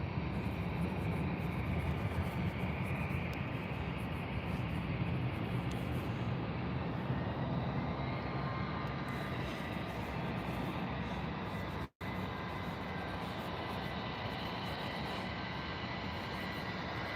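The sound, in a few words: EasyJet airliner arriving at Birmingham Airport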